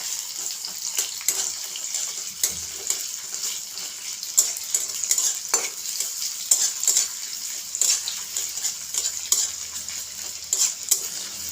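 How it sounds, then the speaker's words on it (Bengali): Chopped onion is stirred in hot oil, with a thin, hissing sizzle broken by frequent close scraping and clattering stir strokes. "এখন পেঁয়াজটাকে নেড়ে মিশিয়ে নেব।"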